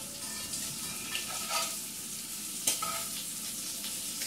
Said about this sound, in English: Alright, so flip the shrimp.